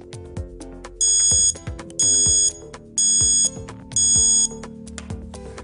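A charger leash alarm rings in four loud bursts, roughly once per second, each a shrill electronic beeping tone, set off when a device is unplugged; a busier, quieter layer of clattering sound fills the gaps between bursts.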